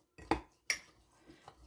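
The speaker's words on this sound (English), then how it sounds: "I like to take a clean knife and stir that part up" A clean knife stirs overnight oats inside cups, producing two quick clinking taps against the container followed by softer scraping.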